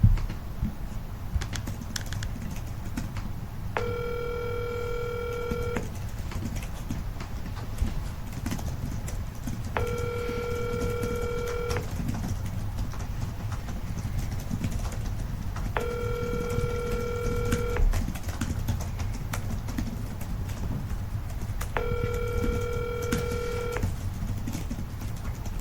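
A phone call ringing through to voicemail during a committee meeting, four evenly spaced ringback tones about six seconds apart, faint and steady over a low room hum, no talking.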